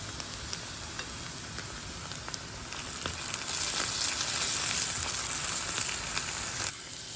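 Ginger-garlic paste fries with browned onions in a pan, giving a steady close sizzle and hiss that swells louder midway, with faint stirring scrapes and no voices.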